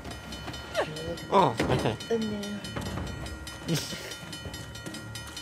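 In Uncharted: The Lost Legacy, a train rolls along with a rumbling clatter and metallic squeals, while voices speak briefly over it.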